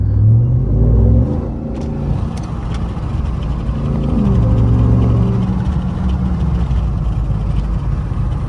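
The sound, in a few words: 2021 RAM TRX truck accelerating and revving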